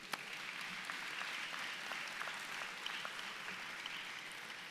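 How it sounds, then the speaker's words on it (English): A high school graduation crowd applauds the graduates' parents, a faint, distant and steady patter of many hands clapping throughout with no speech over it. "You can give them a round of applause."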